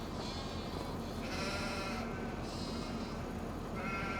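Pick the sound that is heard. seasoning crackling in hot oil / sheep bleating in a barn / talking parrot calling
sheep bleating in a barn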